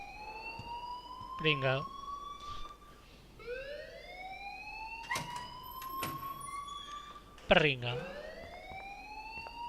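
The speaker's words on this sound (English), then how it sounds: "please turn off that alarm since that's your job" A school fire alarm rings in Life is Strange with a rising, repeating electronic wail that sweeps up again and again, while voices speak over it in short bursts.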